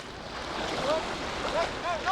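Surf rolling onto a beach in Phuket, a steady broad wash of waves with wind buffeting the microphone, a few faint bird-like chirps and distant voices over it.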